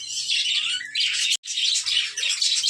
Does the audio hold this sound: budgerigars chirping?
yes